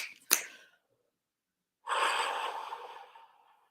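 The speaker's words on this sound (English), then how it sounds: "Let's take a deep breath into this" Someone in a guided session takes a deep breath: a short sharp intake, a pause, then a long airy exhale that slowly fades, close and alone without talk.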